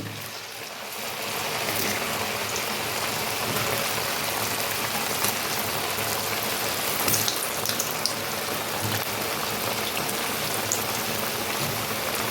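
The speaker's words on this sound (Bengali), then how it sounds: "আমি এখন ল্যাংচাগুলো ভেজে নেব" Carrot langcha sweets fry in hot oil, giving a dense, continuous sizzle and crackle like steady rain that starts softly and then holds at an even level close by, with no talking.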